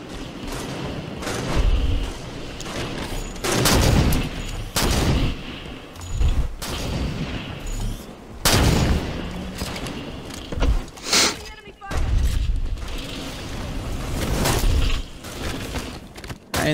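Sniper rifle gunfire in Halo 5: Guardians social sniper matches, rendered as repeated loud, sharp shots spaced a few seconds apart, each with a booming tail, while someone talks over the shooting.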